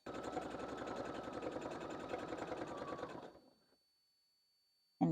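A sewing machine stitches in the ditch on a quilted project bag. It runs with a steady, rapid mechanical whir for about three seconds, then slows and stops, followed by silence and a brief clunk at the end.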